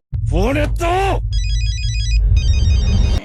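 A voice is heard briefly, then an electronic phone ringback tone repeats in two bursts over a low hum.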